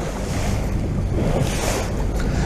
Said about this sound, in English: we've now left the cove and we're heading out to a head sea